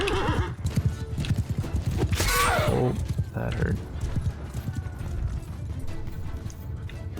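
Horses in Mount & Blade 2: Bannerlord gallop with fast, close hoofbeats, and one lets out a loud whinny partway through, while someone talks over the action.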